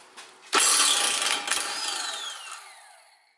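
A power tool, likely an impact wrench, removes a 17 mm nut from a car steering knuckle on a drift car build: one loud, sustained burst that winds down over a few seconds with a falling whine.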